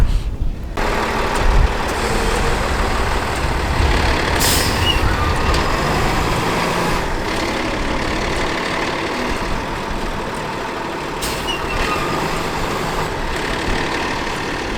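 A water truck on a dirt site in Thoreau, New Mexico rumbles nearby with a low engine drone, sharp hissing air-brake releases cutting in a few times.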